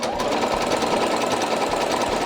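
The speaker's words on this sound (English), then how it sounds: "Let's see what my machine can do. Let's check out the feather stitch." A sewing machine runs a feather stitch at speed, giving a loud, close, rapid mechanical chatter with an even pulsing rhythm throughout.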